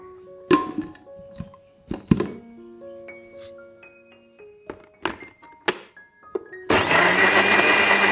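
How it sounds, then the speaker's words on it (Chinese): Steamed potatoes and 100 ml of water go into a blender: scattered knocks and clinks as it is loaded, then the motor kicks in with a loud, steady whir for the final seconds. "将蒸好的马铃薯放到搅拌器里， 倒入100毫升的水，搅打至泥状"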